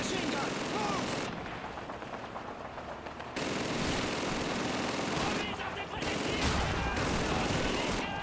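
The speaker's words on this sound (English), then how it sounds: "Sergeant Davis, get on the German machine gun." A German machine gun firing in Call of Duty 2: loud, sustained automatic bursts with brief pauses and distant explosions mixed in, and a voice speaking under the gunfire.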